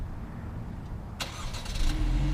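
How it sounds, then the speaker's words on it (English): A 2016 Chevrolet Malibu Premier LTZ starts by remote start: after a quiet moment, a sharp crank catches and settles into a low, steady engine rumble nearby. "We do have remote engine start."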